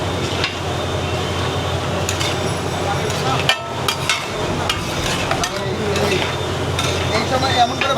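Chicken being stir-fried in a large wok: a continuous sizzle with repeated metallic scrapes and clanks of a spatula against the pan, close by, with people talking over it.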